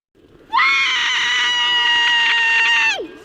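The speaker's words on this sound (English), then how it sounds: "Egg lets out one of the greatest yells in cinematic history" A boy named Egg lets out a long, loud, sustained scream during a medieval trial-by-combat, rising sharply, held strong for over two seconds, then dropping off, close and dominant.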